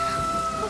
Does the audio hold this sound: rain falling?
yes